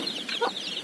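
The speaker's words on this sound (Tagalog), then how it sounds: "Mabait naman itong inahin ko." A broody hen sitting on a clutch of eggs that includes Black Australorp eggs clucks softly a few times in a short, close burst, with no other sound.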